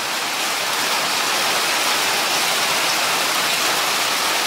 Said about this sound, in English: Check out this rain that just showed up, like out of the blue.